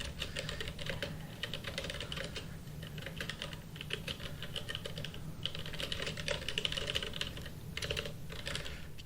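Fast, uneven typing on a computer keyboard, with dense clattering keystrokes that run on continuously at moderate volume.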